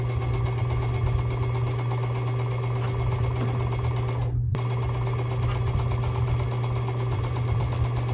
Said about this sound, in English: one final seam now to sew my block together